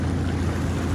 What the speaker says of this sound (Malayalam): അതുകൊണ്ടാണ് കേട്ടോ ബോട്ട് ഇങ്ങനെ സൂക്ഷിച്ച് പോണത്